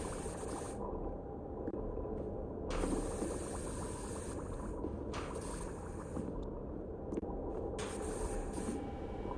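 A pressure washer sprays in the cleaning game Powerwash Simulator, a soft steady hiss of water that cuts in and out in short bursts against a quiet mechanical background.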